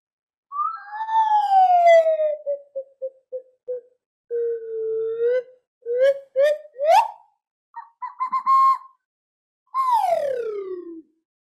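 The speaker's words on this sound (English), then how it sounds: "There is one very significant instrument for Edgar Willems, and this is the slide flute." A slide flute played alone, its pure whistling tone sliding down in long glides, then breaking into short stepped notes and quick upward swoops before a final falling glissando, loud and close.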